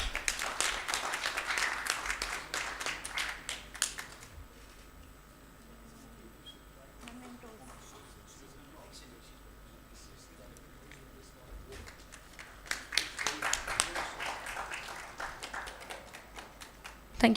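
An audience at a medical education course applauds a memento presentation, with loud clapping for about four seconds, a quieter stretch, then a second burst of clapping near the end.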